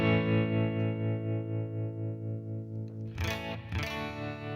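A sustained, heavily compressed electric guitar chord through a Headrush pedalboard compressor rings out evenly with a slight wavering pulse, then a few quick strums break in near the end.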